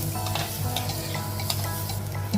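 Spices with turmeric and chili powder sauté in hot oil in a pan for prawn theeyal, a steady close sizzle with continuous stirring and scraping running throughout, no talk.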